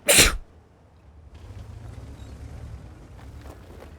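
A single sharp, loud sneeze bursts out at the start, followed by quieter low rumbling and faint game noise during a tank battle session in a T-34-3.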